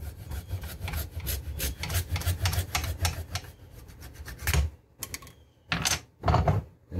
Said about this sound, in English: I go right here and cut right at the edge of the head stamp